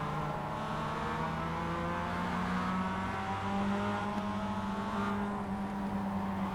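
Several race cars in a racing video game accelerating off the starting line, a steady droning chorus of engines with rising and overlapping pitches, loud and continuous throughout.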